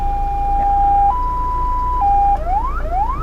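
A loud electronic siren from a 2019 Toyota Revo pickup's loudspeaker alternates between two steady tones, then switches to quick upward-sweeping whoops, played close over a low engine rumble.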